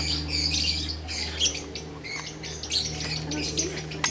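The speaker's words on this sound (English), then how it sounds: "Oh, hi, baby bird." A baby bird squawks and chirps close by on the ground in Guatemala, its shrill calls repeating in rapid bursts over a low steady hum.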